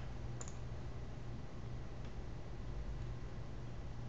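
A single computer mouse click lands sharply on a send button in an email program, then only quiet room hiss remains.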